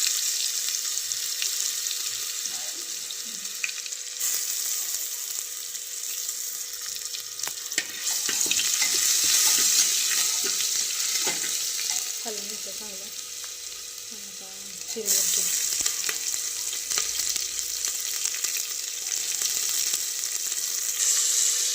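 Cumin, curry leaves, ginger, garlic and green chili fry in hot oil, giving a steady bright sizzle throughout with occasional stirring scrapes and small bursts in the middle, no talking.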